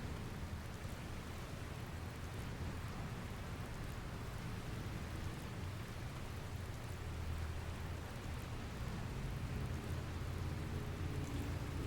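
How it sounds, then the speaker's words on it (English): Rain from a thunderstorm in the video game Dragon Quest Builders 2 pours as a steady, dense hiss with low rumbling thunder underneath, constant throughout and without voices. "There's another storm rolling in."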